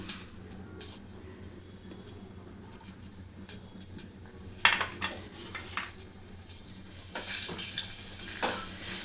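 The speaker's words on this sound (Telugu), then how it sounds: "ఇది మంచిగా ఫ్రై కావాలి గోల్డెన్ కలర్ వచ్చేంత వరకు వేయించుకోవాలి ఉల్లిగడ్డ" Chopped onions fry in a few tablespoons of oil in a pan, a low, steady sizzle broken by close metallic clinks and scrapes of a spoon against the pan, with no voices.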